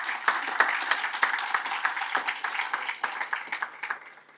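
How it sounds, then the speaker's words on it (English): Audience at a drug commission opening in Nairobi giving a round of applause, dense steady clapping from a seated crowd that tapers off toward the end. "Can you have another round of applause?"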